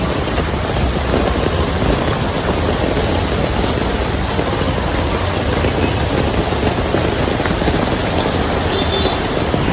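Heavy monsoon rain in flooded Mumbai pours in a dense, steady roar with a low engine-like rumble underneath, continuous and loud throughout with no voices.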